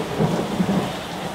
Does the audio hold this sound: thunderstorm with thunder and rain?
yes